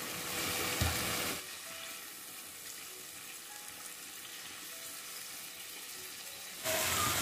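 Butter melting in a pan with spices during dinner cooking, a faint steady sizzle that swells louder at the start and end, with no voices.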